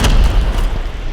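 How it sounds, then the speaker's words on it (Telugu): A bomb explodes in the Call of Duty video game, a loud, deep boom that hits right at the start and rumbles on as a heavy low roar for about a second. "బాంబు పెట్టిట్టు వేసేస్తుంది"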